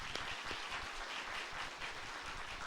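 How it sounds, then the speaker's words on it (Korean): Applause from a church congregation during a Sunday worship service, a steady wash of many hands clapping at moderate level throughout, with no voices standing out. "박수로 하나님께 영광, 할렐루야."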